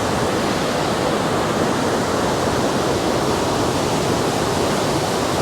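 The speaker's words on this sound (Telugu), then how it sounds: "ఏ స్పీడ్ పోతే వాటర్. దీన్ని అంటారు చూడండి గషింగ్ స్పీడ్ అని." Glacier-fed mountain stream near Lauterbrunnen, Switzerland, gushing at speed with a loud, steady broadband roar of rushing water that continues unbroken throughout, close by and with no voices.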